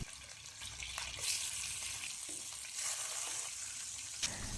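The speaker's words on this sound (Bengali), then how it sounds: "এখানে সব মাছগুলো আমি ভালোভাবে ভেজে নিচ্ছি" Sarpunti fish sizzle and crackle as they fry in hot oil, a steady close hiss with occasional stirring scrapes and pops, no voices.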